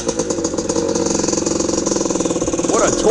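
A 1980 Honda CR250R Elsinore two-stroke motorcycle engine runs nearby with a rapid, pulsing beat, swelling slightly louder toward the end.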